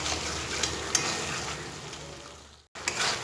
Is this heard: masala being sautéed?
yes